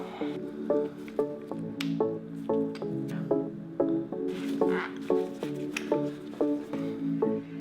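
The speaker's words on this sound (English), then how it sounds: "Okay, so there is going to be a lot of brake fluid coming out of this." Brake fluid drips and squishes out of a Ducati Monster's opened brake line, producing a steady string of close, wet drip pops at a fairly even rhythm.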